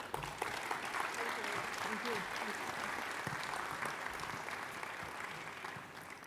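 Audience applause welcoming keynote speaker Helen Shenton at a cultural heritage conference, a continuous patter of clapping heard at a fair distance and fairly quiet, easing slightly near the end.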